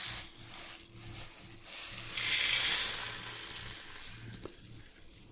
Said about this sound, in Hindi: तो गैस, मैं इसे भून रही हूँ।